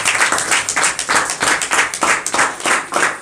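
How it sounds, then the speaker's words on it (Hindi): An audience at a home worship meeting claps loudly and continuously in an uneven, energetic rhythm, filling the room with dense applause. "यीशु के लिए ताली लगाएंगे जोर से"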